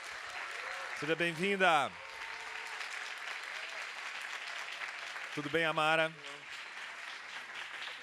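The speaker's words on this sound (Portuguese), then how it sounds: "Palmas para Amara" Steady applause from a book fair audience in São Paulo as writer Amara Moira is welcomed on stage, a continuous even wash of clapping beneath brief spoken greetings near the start and middle.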